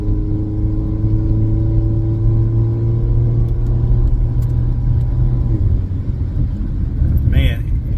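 A 2001 Honda Accord with a newly replaced transmission mount runs its engine up to about 3,000 RPM, giving a loud, close, steady droning hum that drops off near the end.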